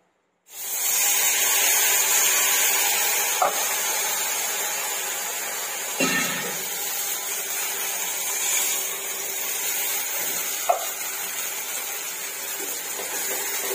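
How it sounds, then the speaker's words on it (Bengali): An electric mixer grinder whirs steadily, grinding poppy seeds and cashew nuts with a loud, continuous hiss-like drone that starts abruptly and runs unbroken for over a dozen seconds, with a few small clicks along the way. "আর পোস্ত, কাজু বাদাম মিক্সিতে বেটে নিলাম।"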